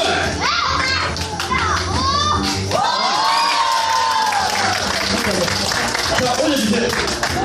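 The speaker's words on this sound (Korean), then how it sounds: "우리 윤성이 위해서 응원 박수 부탁드리겠습니다" Audience at a Haedong Kumdo grading session cheers and claps for a child attempting a jump, lively shouts and voices of children mixed with scattered applause, steady throughout with excited vocal rises.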